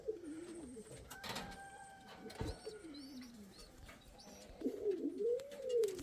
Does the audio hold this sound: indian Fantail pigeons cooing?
yes